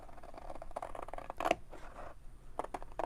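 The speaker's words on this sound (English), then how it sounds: "I'm just going to cut it with these scissors" Quiet snipping of scissors through fabric, a string of soft irregular cuts with one louder crunch, close by against a faint background hum.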